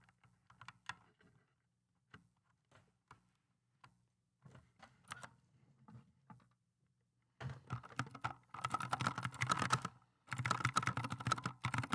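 Typing on a computer keyboard, sparse quiet keystrokes at first, then bursts of fast, dense clattering typing near the end, close by, with no talk.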